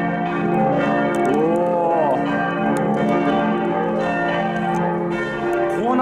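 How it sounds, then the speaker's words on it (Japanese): Church bells ring loud and close in a tower in Munich, Germany, their sustained overlapping tones humming steadily throughout, with a brief exclamation from a man. "こうなってるのか、教会の鐘ってすごいな。"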